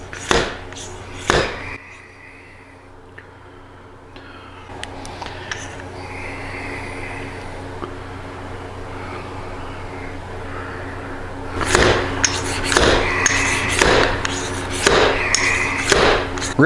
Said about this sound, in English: the fork seal driver is pretty heavy, so it just kind of basically acts like a hammer.